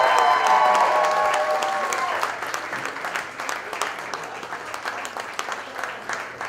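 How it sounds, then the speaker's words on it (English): A large crowd at a high school graduating seniors ceremony claps in sustained, loud applause, fading gradually while a voice speaks briefly over it. "We get one huge round of applause,"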